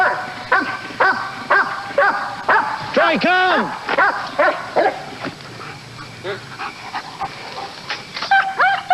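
Police K9 dog barking during an armed standoff: a burst of sharp barks, yips and whimpers close by, mixed with urgent shouting voices.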